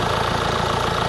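A 2023 Mercedes C-Class C220d diesel saloon idles steadily up close, its even mid-low engine hum and faint knocking rhythm running alone without pause.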